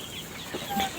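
Chickens cluck softly in a coop being sprayed with disinfectant to prevent disease, a brief, faint burst of low clucking and rustling with no talk.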